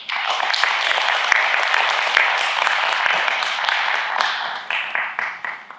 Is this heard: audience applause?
yes